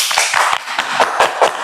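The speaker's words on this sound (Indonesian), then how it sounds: "Tepuk tangan untuk beliau." Audience clapping for Teddy at a theatre talk event, a short burst of scattered, uneven hand claps close by with no voices.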